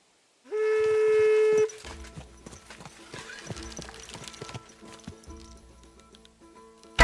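Rhythmic clip-clop of horse hooves in the video game Kingdom Come: Deliverance II plays close by, preceded by a sustained whistle-like tone, with scattered thuds and clatter around the steps.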